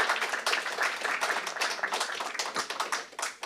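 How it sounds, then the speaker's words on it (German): Conference audience applauding, a steady patter of many hands clapping in a hall, moderately quiet and sustained, tapering slightly toward the end without any talk over it. "ich wollte das Klatschen nicht abbrechen"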